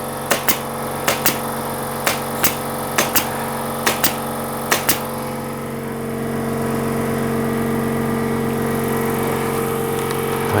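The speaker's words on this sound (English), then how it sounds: "I told you the compressor was about to go off." An air compressor in an upholstery workshop kicks on after a run of sharp paired clicks from a pneumatic staple gun, then keeps up a steady, loud droning whir to the end.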